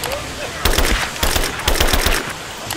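Automatic gunfire rattles in a shooter set in abandoned mines, loud close bursts of rapid shots with brief gaps between them.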